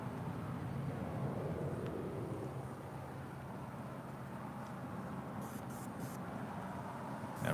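A British Airways Airbus A350-1000 departs LAX for London Heathrow, heard as a faint, steady, broad jet rumble from a distance, with no talking.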